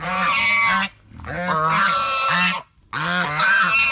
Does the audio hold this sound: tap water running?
no